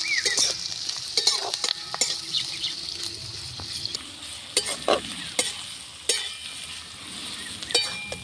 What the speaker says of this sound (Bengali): পেঁয়াজে যতক্ষণ না রং ধরছে ততক্ষণ ভাজা ভাজা করে নিতে হবে।